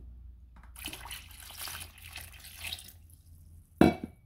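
Water poured into a container over sweet potatoes, a few soft splashy pours in bursts followed by a sharp, louder splash near the end, close and quiet overall.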